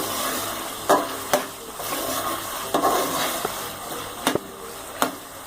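Chicken liver (kaleji) fries in a pan under a low bubbling sizzle, while a spoon stirs it with several sharp scraping knocks against the metal, spaced irregularly.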